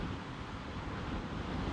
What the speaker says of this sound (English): Well, of course it was windy.